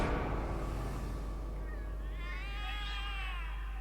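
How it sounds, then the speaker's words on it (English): Several cats in the video game The Cat Lady meow and caterwaul, with wavering, drawn-out cries rising over a low steady hum, fairly close, with no talking. "The cats are alarming."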